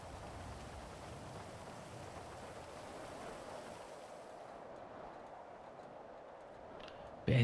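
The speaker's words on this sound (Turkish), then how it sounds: "Uf yağmur ne çok ses ya" Steady rain in a video game, a constant hiss of falling drops that cuts out abruptly near the end, quiet and even with no voices.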